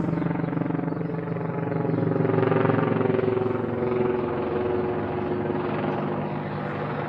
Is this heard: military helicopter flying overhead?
yes